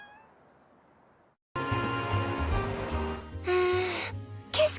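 A cat in a game meows repeatedly and loudly after a quiet stretch, with drawn-out, wavering cries over busy background sound and a short final meow.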